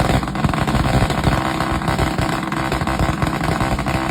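A motorcycle fitted with a burnt-out power pipe exhaust whose fiber packing has burned away runs steadily nearby, a loud, continuous, raspy engine drone with a gritty rattle and no pauses.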